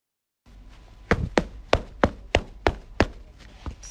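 Feet stomping on a hard floor, eight or so sharp, evenly spaced thuds close by, with a softer final stomp trailing after.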